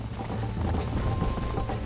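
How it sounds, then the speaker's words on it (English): A horse gallops along a road in the video game Red Dead Redemption, its hooves a rapid, steady drumming that runs unbroken with no talking. "Ideally, you want to stay on the road because the horses are faster when they're on the road."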